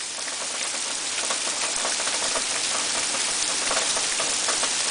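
Light rain falls in Winnipeg, making a steady, dense hiss of drops with no break or change in intensity, close and even, with no voices.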